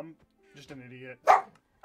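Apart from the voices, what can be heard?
dog barking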